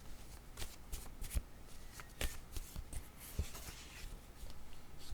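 Playing cards riffled and shuffled in a quick series of crisp, flicking bursts, fairly close and unaccompanied by talk, during a party word-card game.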